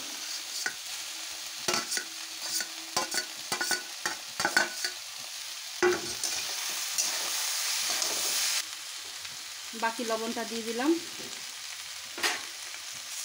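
Vegetables with fried pointed gourd sizzle and are stirred in a pan, with scraping utensil strikes over a steady hiss and a louder sizzling surge partway through; someone briefly speaks.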